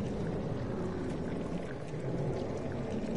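Liquid filth pours from the walls and ceiling in Doom 3, a steady, dense gushing and splashing that fills the scene without pause, with no talk over it.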